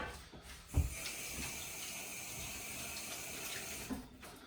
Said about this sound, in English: Let me just wash my hands quickly.